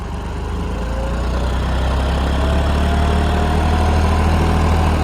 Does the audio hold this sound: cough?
no